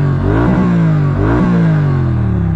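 A Triumph Street Twin 900 motorcycle with twin small exhausts revving close by, loud throaty engine note rising in two quick blips then holding a steady rumbling idle-to-mid rev.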